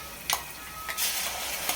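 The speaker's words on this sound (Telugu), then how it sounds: "ఈ ఉల్లిపాయ పేస్ట్లోనే కొద్ది మసాలా మిక్సీ పట్టుకోవాలని చెప్పాను కదా, ఇప్పుడు ఆ మసాలా వేసేద్దాం" Masala ground into onion paste hits a hot pan for a mango fish curry, giving brief hissing sizzle bursts over a low steady frying hiss, with faint stirring scrapes and no talking.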